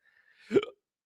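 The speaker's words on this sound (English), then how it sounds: "that was a hiccup" A single sharp hiccup, close and fairly quiet, in an otherwise near-silent moment during a live stream.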